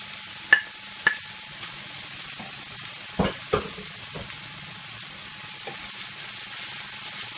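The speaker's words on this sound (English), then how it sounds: "next to go in is the chopped leek. And I'm just going to fry that in until it's nice and soft." Chopped leek fries softly in a pan on low, quiet sizzling punctuated by a few sharp clicks and scrapes of stirring, with no voices.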